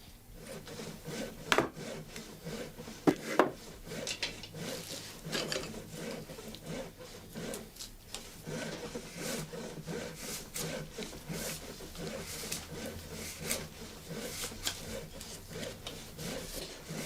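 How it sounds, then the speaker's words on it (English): A carving knife shaves and scrapes wooden rake teeth to fit their holes, a steady run of close, dry rasping strokes repeating quickly and evenly, with no voices. "The rake maker finally adjusts the teeth to the hole size using a carving knife."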